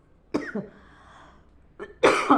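Two bursts of harsh coughing, close and loud, separated by a short quiet gap with faint background noise.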